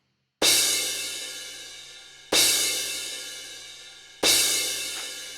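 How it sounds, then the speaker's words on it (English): Basic cymbal crash sample triggered three times in Ableton Live, each a loud bright hit with a long shimmering decay, evenly spaced about two seconds apart. "It's a basic cymbal crash and it sounds like this."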